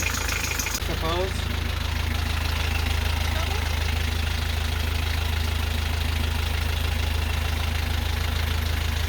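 A car engine idles steadily and close by, a constant low rumble with faint knocking that runs the whole clip, starting right after a brief disturbance, with no talk heard over it.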